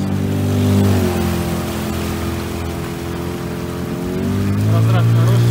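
Small outboard boat motor running on a winter river, the Ufimka, a steady droning hum with harmonics that dip and rise in pitch, loud and close, with voices faintly over it.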